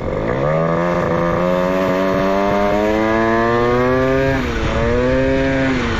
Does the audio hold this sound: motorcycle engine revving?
yes